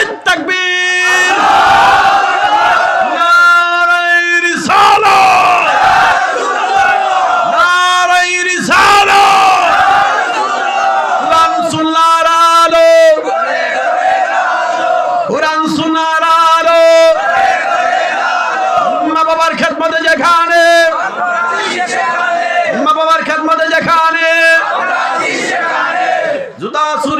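A large crowd at an Islamic religious gathering chants Allahu Akbar in repeated loud unison bursts, each roaring response separated by brief pauses, answering a leader's call for takbir.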